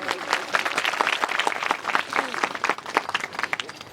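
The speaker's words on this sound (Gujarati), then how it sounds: "આપણે થોડું તાળી પણ પાડીશું અને એમનું સન્માન પણ કરીશું." A village gathering honouring gurus breaks into sustained audience applause, dense crowd clapping continuing steadily for several seconds with scattered voices mixed in.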